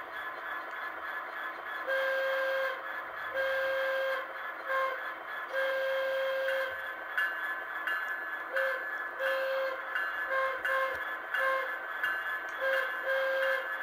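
Hancock 4700 air whistle reproduced by a Tsunami 2 model railroad sound decoder, blowing a rhythmic series of shrill short and medium whistle blasts over a steady hiss, with no talking.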